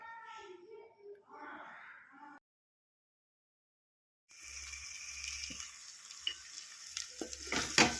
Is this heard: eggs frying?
yes